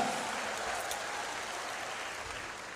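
Broad, steady applause from an audience at a university vocational school anniversary event with an orchestra, a continuous crackling wash of clapping that holds evenly throughout.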